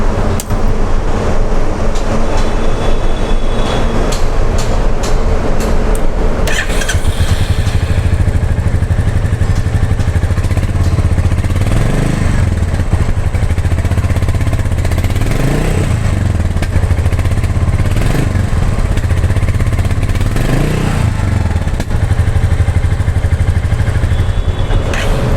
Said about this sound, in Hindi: जो एग्जॉस्ट नोट है वो मैं आपको लगे हाथ फटाफट सुना देता हूँ